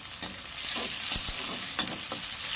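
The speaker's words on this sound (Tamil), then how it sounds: "சேர்த்துக்கிட்டு அது ரெண்டுமே நல்லா பொரிஞ்சு ஒரு மாதிரி ப்ரௌன் கலர் வர வரைக்கும் கிண்டுங்க" Garlic and onion stir-fried in hot oil until brown for bihun goreng, a steady close sizzle with the scrape and clatter of a spatula stirring through the pan.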